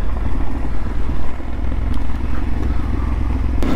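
A motorcycle ridden through Morocco gives a loud, steady engine rumble mixed with wind and road noise from start to finish, with no talking.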